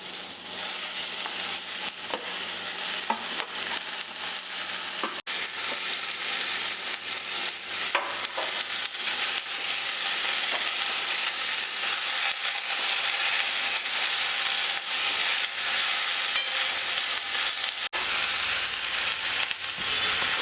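Snake gourd and other ingredients sautéing for a Kerala thoran, a loud, steady sizzle and frying hiss with occasional stirring scrapes in the pan, continuous throughout with no talk.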